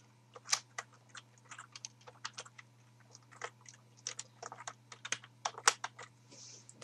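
Someone types a name into a form on a computer keyboard, with irregular bursts of crisp, close key clicks over a steady low electrical hum.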